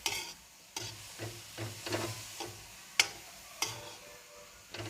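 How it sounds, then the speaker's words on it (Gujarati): Carrots frying in ghee for carrot halwa, stirred steadily with a spoon: repeated scraping strokes and a few sharp clinks against the pan over a soft, low sizzle, close by and fairly quiet. "હલાવતા રહેશું જેથી ગાજર તળિયે ચોંટી ના જાય"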